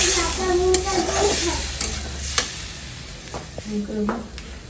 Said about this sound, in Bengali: ইলিশ মাছটা কষাই নিলাম